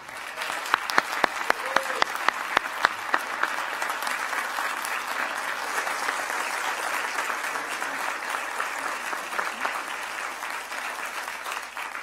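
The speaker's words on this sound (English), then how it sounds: "Let's give everyone a big round of applause" Audience applause at a police command college graduation ceremony fills the hall in a steady, dense wash. A few sharp, distinct claps stand out at the start, then blend into continuous clapping that carries on unchanged.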